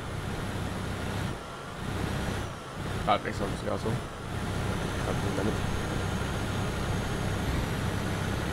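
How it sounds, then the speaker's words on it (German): A truck engine in Euro Truck Simulator 2 heard from outside the cab, a steady low rumble and road noise running throughout, with someone briefly speaking over it midway. "So hört sich der LKW von außen an."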